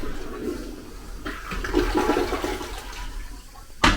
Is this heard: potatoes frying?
no